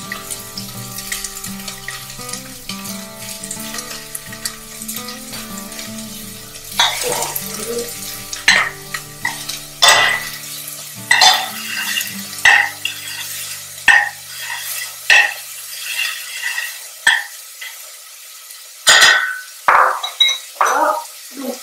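Vegan dish stirred in a pan over the heat, with repeated wet scraping and sloshing strokes plus a light sizzle and running water, loud and close.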